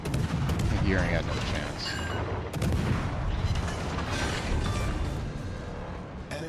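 Quick-firing destroyer guns in World of Warships Legends boom in rapid, dense volleys with mechanical clatter, loud and continuous, while someone talks over the gunfire.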